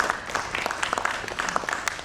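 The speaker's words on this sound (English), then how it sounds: "Please welcome all of the panelists that we have with a round of applause" A panel discussion audience applauds to welcome the panelists, a fairly sparse, moderately loud patter of individual claps continuing steadily throughout.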